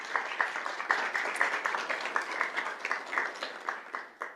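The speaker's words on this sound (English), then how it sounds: "so we can give her a big round of applause." A school board meeting audience applauds an elementary school PTSO president, giving a moderate, fairly distant patter of clapping hands that holds steady throughout.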